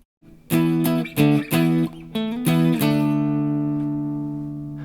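Electric guitar plays a riff, a run of clean, sharply plucked notes with a slide partway through, ending on a held note that rings out and slowly fades. No one speaks.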